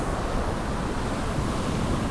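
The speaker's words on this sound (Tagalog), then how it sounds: "Lakas ng alon, bagyo pa rin kasi, wala pa rin tigil yung ulan." Dense, roaring surf from heavy sea waves during a typhoon with continuing rain, loud and continuous with wind noise blended in, no voices.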